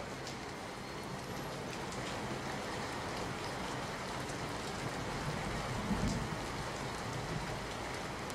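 Heavy rain pours steadily during flooding in Savarkundla, Amreli, as a dense, continuous hiss with a slight rise in intensity near the end and no voices.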